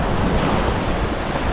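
Sea waves wash steadily on a seashore, a continuous loud surf roar mixed with wind buffeting the microphone, with no voices.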